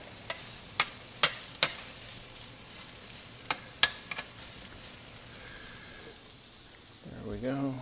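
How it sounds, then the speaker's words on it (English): Onions hit a Chantal stainless griddle on a GE Cafe induction range with a series of sharp crackling pops, then settle into a soft, steady sizzle up close, with a voice speaking briefly at the end. "I'm going to put my onions on the back of my griddle"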